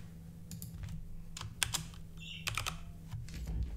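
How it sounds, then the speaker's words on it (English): Quiet, close keyboard typing: irregular clicks and taps in short bursts over a low steady hum. "Let's actually finish typing this."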